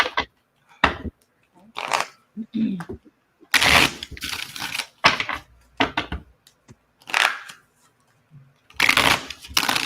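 Tarot cards are shuffled in repeated bursts of riffling, crisp flicking and sliding, close and distinct, broken by short pauses.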